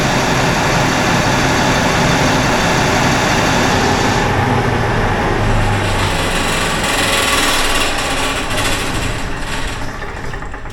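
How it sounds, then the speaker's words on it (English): A 250 kW Cummins generator idles at reduced RPM through its cooldown, giving a loud, steady engine drone with continuous mechanical hum and no talk. "the generator itself has a minute and a half cooldown at idle"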